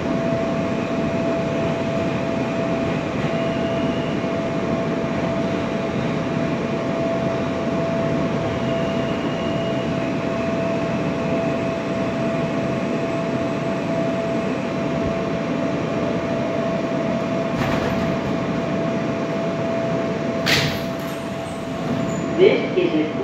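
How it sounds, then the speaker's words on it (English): Steady rumble and hum of a New York City R160 subway car riding an E train along the R line, a constant loud drone with a sustained tone, a few sharp clanks near the end. "This is a Queensbound E train via the R line."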